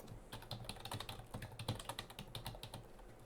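Rapid typing on a computer keyboard, a quiet, steady stream of close clicks and taps with no pauses.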